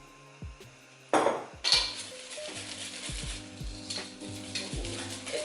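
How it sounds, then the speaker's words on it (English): Banana bread batter being whisked in a bowl: repeated quick scraping clinks of a utensil against the bowl in an uneven rhythm, close and moderately loud, with a sharper clatter near the start. "But just whisk it, and then add a bit of more flour."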